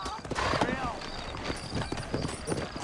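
Horse hooves clip-clop steadily on a town street in the Red Dead Redemption video game, with a loud, close rhythm of hoofbeats running under a man's speech.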